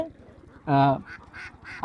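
Khaki Campbell ducks quacking at a farm, one loud nasal quack followed by several quieter quacks from nearby birds over a low background hum.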